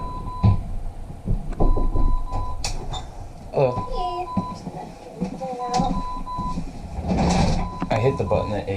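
Electronic beeps sound as steady tones repeating at regular intervals after a button press, audible under talking and mechanical vehicle-like noise.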